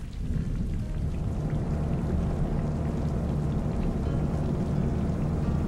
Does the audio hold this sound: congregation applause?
no